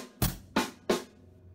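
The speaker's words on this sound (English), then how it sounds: "your right hand is hitting the hi-hat while the kick drum hits." Three drum strokes from a left-handed paradiddle on a kit, hi-hat played together with the kick drum, evenly spaced and close, with no talking.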